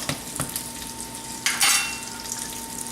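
Peach halves laid cut side down in a hot pan, caramelizing for a butternut squash and sweet onion pasta, give off a soft, steady sizzle, with a couple of light clicks early on and a brief louder burst of crackle midway.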